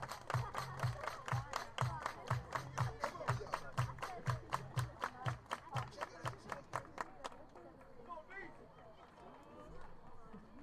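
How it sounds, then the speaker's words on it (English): Baseball crowd at a varsity high school game clapping hands in a steady, rhythmic unison beat, roughly two claps per second, fairly close and loud, before the clapping stops and gives way to quieter crowd murmur. "Everybody clap your hands."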